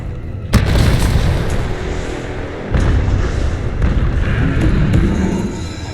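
Rocket launcher blasts in a video game, a sharp boom followed by a second heavy thud a couple of seconds later, with a rumbling roar and layered game noise carrying on between them.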